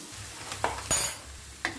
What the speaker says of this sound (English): now give everything a good mix